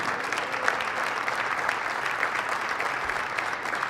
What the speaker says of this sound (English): please give an incredible round of applause for our amazing seniors